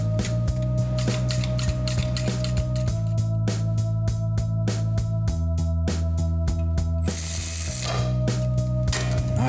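Ratchet clicking steadily as screws are driven in to bolt a transmission to its crankshaft mount, a loud, continuous run of rapid mechanical ticks with shifting tone and a brief hiss near the end.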